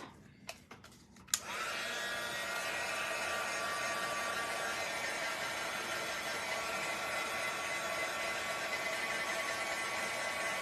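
A hair dryer blows steadily at close range to dry paint on a small wooden shiplap-style sign, a continuous loud whir starting after a few soft knocks and holding unbroken to the end.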